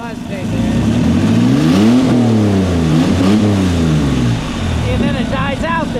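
An old vehicle engine with no exhaust fitted is revved to full throttle, a loud raw roar sweeping up and down in pitch with a hesitating stumble, close by, with someone speaking briefly near the end.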